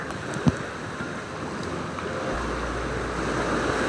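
Rough sea after a storm: a continuous surf-and-wind rush with one brief thump near the start and a deepening low rumble later, loud and close, with no talking.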